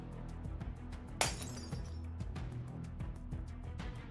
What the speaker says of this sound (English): It must be the sound of the glass structures breaking.